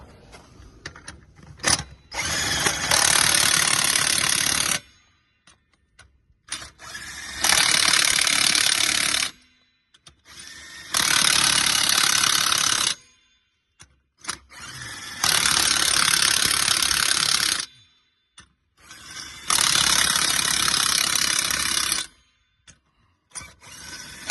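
A ratchet tightens the nuts on a car wheel being refitted, in five long bursts of rapid clicking separated by short pauses and a few lighter clicks and clanks, heard close and alone.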